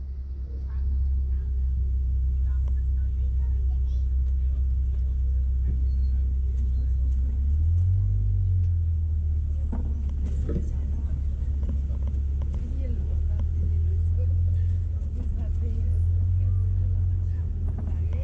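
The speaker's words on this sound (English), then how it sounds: "We're just waiting on just a bit of traffic up ahead." A Disney Animal Kingdom Kilimanjaro Safari vehicle idles in traffic, its engine a steady low rumble throughout with a slight rise in revs partway, while faint background sounds come and go.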